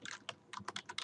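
Quick, light keystrokes on a computer keyboard, a short burst of irregular taps close by and alone, with no voices.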